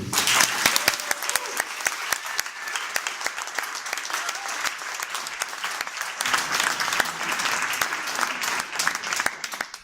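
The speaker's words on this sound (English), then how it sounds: "that will give a big applause to you" Audience applause fills a closing ceremony for a school Erasmus project, a steady burst of clapping lasting about ten seconds with some cheering and voices mixed in, continuous and fairly loud throughout.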